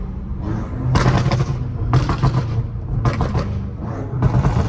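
A BMW M5 F90 Competition with a full titanium exhaust and downpipes revs hard and close, about four loud bursts roughly a second apart, each roaring up and dropping back to a deep idle.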